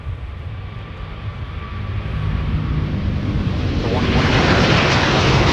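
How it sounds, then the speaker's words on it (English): A Delta Airbus A350 heavy jet takes off from a parallel runway, a broad engine roar that swells steadily louder and brighter as thrust builds, close and dominant throughout. "Here is Delta 121 blasting off for Tokyo Haneda."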